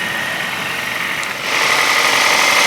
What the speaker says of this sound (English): as you guys can hear, the motor sounds pretty darn healthy